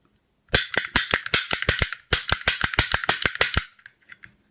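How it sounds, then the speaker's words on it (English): A lock pick gun snaps rapidly against an old 30mm bell padlock, two bursts of sharp, loud mechanical clicks in quick rhythm with a brief pause between them, then a few soft trailing ticks. "Shall we check the pick guns first? Let's see if we can open them"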